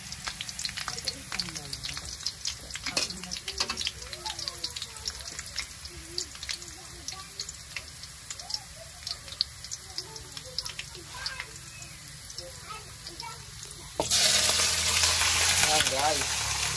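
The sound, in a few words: garlic frying in a pan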